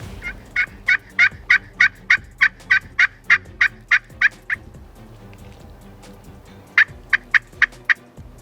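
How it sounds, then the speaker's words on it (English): A wild Rio Grande turkey gobbler gobbles in a rapid run of about a dozen pulses, pauses, then gobbles again in a shorter burst, fairly close, in Colorado. "There's one of the gobblers, just came out."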